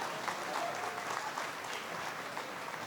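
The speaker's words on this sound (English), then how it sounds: "so please give them a round of applause." Dinner guests at an investment event applaud company team members, a soft, steady, continuous patter of many hands heard from a distance throughout.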